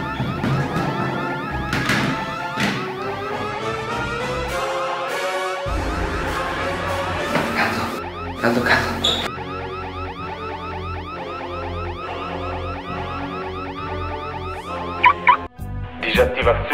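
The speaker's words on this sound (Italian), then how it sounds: "Disattivazione allarme in corso." An alarm wails continuously at high volume with shifting, siren-like tones that change pattern partway through. Voices speak over it, and a few sharp knocks come near the end.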